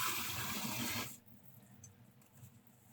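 Solution used in refining 90% silver is poured into a container, giving a loud, steady rush of liquid for about a second that stops abruptly, leaving quiet room tone behind.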